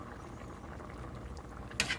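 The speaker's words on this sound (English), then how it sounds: "I'm going to bring this down to a little bit of a lower temperature, so it's just barely bubbling on top" A pot of chicken and saffron rice simmers on a lowered flame, giving faint, soft bubbling, with a brief louder rustle near the end.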